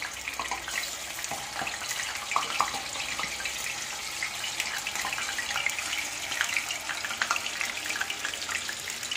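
Batter is poured into hot oil in an unniyappam pan, giving a faint, steady sizzling hiss with scattered crackles throughout, heard close with no talk.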